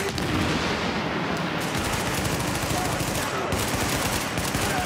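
Rapid bursts of automatic gunfire from Tom Clancy's The Division on PC, loud and continuous with dense overlapping shots, a brief lull near the middle, and faint voices underneath.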